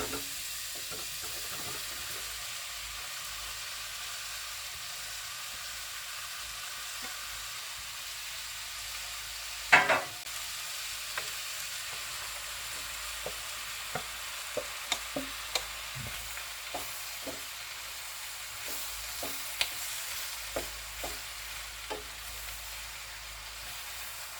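Half-ripe Nendra banana pieces sizzle and fry in a pan with a steady hiss, broken by a sharp clatter near the middle and then a run of light stirring knocks and scrapes, with no talking.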